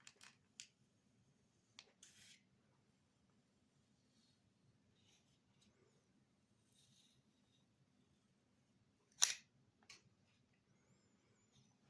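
Scissors cutting a raffle ticket roll in a blade edge test, a few sparse, quiet snips and clicks spread across near-silence, with one sharper cut standing out.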